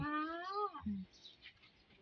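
A cat meows with a clear, rising-then-falling harmonic call lasting most of a second, followed by a short lower chirp, close and fairly loud, with faint background noise after.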